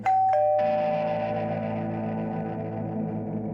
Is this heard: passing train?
no